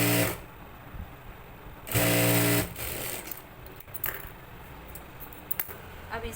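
A sewing machine stitches a boot-style seam for a neck design, running in short bursts of whirring with pauses, the loudest burst near the middle; handling clicks and rustles fill the gaps, close and moderately quiet.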